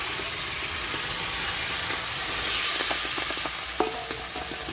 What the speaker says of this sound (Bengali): মা মোচা ঘন্ট রান্না করছে